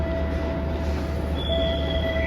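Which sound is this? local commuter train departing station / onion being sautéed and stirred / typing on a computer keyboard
local commuter train departing station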